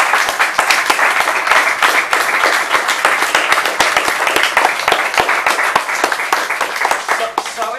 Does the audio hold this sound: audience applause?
yes